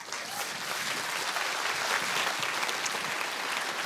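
Warm applause from a seated audience at a Swedish brain-science lecture event, welcoming a psychiatrist onto the stage; dense, steady clapping that fills the whole stretch at even loudness, with no voices.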